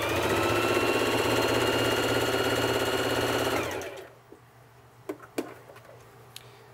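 A Singer Heavy Duty sewing machine runs fast and steadily, stitching through two layers of cotton with a close, loud whirring hum, then stops abruptly, followed by a few faint clicks.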